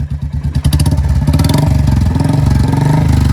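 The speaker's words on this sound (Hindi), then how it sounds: "न्यूट्रल करो, न्यूट्रल होगी। रेस दो," A Royal Enfield Bullet motorcycle is revved in neutral close by. Its deep, lumpy thumping exhaust beat quickens into a faster, steady throb as the throttle opens, with no talk over it.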